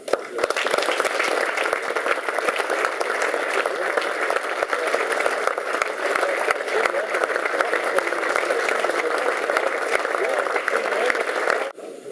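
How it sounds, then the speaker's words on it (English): Sustained applause at a memorial club dinner honouring former Hearts players, a steady dense clapping from a seated audience lasting nearly the whole stretch before cutting off abruptly near the end. "we could have, in order to celebrate the lives of these former Hearts players, a minute's applause"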